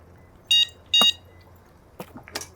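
Two short electronic beeps from an electric tricycle's horn, close and bright, about half a second apart, followed by faint scattered clatter.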